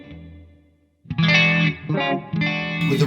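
A guitar played through a clean Soldano amp model with a rotary effect on a Sonicake Matribox rings out as a fading chord, then rhythmic funky strummed chords with a swirling, wobbling tone, loud and alone.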